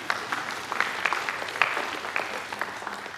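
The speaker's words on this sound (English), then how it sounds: "You can clap for that" Scattered clapping from a church audience at a marriage talk, a light patter of hands that stays fairly faint and uneven for a few seconds.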